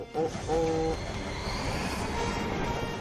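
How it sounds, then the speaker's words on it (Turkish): A cartoon train approaches on a railway in an animated rescue-team show, with a brief horn-like tone at the start over a steady rumbling, hissing rail noise that fills the whole stretch. "Zitron, demir yoluna gelen bir tren var."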